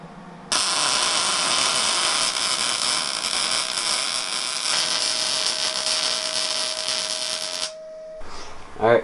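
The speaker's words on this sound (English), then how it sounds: "now I gotta weld it in." A steel bracket being welded onto the electronics tray of a 1980 Kawasaki KZ750 LTD café racer gives a loud, steady buzzing hiss for about seven seconds, then cuts off abruptly.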